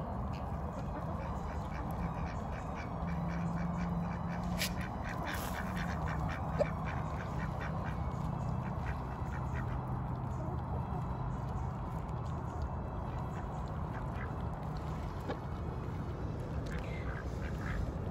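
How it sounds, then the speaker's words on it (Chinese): On a quiet farm, ducks quack at scattered moments through a long stretch, moderately close, while they eat grain alongside chickens and geese. Soft background noise runs throughout. "看着鸡鸭鹅在吃东西"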